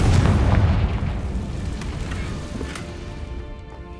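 A Confringo blasting spell explodes in Hogwarts Legacy inside a goblin mine: a loud, broad boom at the start that rumbles and slowly fades over a few seconds, leaving a low dull tail.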